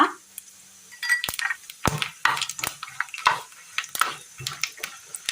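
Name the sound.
dried chilies, fennel, cardamom and cinnamon sizzling in hot oil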